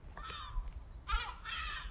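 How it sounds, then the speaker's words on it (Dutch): Outdoor morning birdsong with a few short, harsh crow-like caws in separate bursts, moderately loud over a quiet background. "De vogeltjes zijn lekker aan het fluiten."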